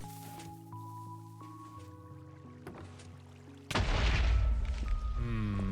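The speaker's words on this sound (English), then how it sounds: "I want to see one more explosion first" A Minecraft explosion bursts in loudly partway through, a broad deep boom that rumbles and decays over the game's steady tonal background music.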